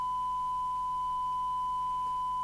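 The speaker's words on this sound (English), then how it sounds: "we've now got a sine wave instead of a dreadful square" Steady pure tone from a Grandstand P2004 CB handheld radio under repair, a single unbroken whistle-like note held evenly and cleanly with faint background hum.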